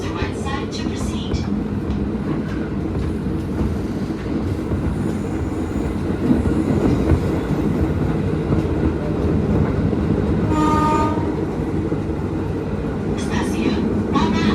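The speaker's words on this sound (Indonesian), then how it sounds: "Bagi kereta akan tiba di stasiun transit Tanah Abang." Commuter train rolling into Tanah Abang station in Jakarta, a steady rumble of wheels on rails with brief squeals and clatter, while a station announcement plays over the noise.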